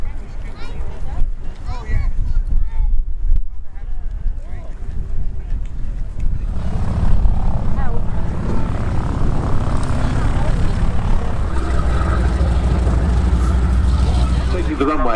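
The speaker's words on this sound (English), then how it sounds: "Taking the runway down at the western end of the airfield, a pair of classic biplanes in very attractive colours" A pair of classic biplanes taxis onto the runway at the Duxford D-Day airshow. A droning propeller engine note builds and holds steady beneath continuous commentary.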